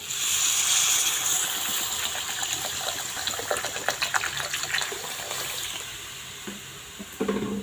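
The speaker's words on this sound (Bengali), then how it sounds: "এই দেখো পরিমাণ মতো জল দিয়ে দিলাম" Water gushes from a vessel into a pot of sautéed mixed vegetables and broken wheat dalia for khichdi, a steady close pour that tapers into bubbling and a faint sizzle at the end.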